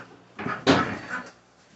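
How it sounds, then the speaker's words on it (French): Someone repairs a door outside: a few dull wooden knocks and a scraping thud, one louder bump in the middle, fairly close and alone without talk. "le bruit qu'on entend là, c'est Stéphane qui est en train de réparer la porte."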